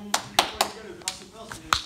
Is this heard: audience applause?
yes